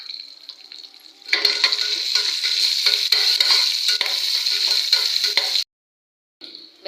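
Small onions frying in hot oil for a Tamil chilli sambar, a steady close sizzle with stirring scrapes that cuts off abruptly and then resumes briefly.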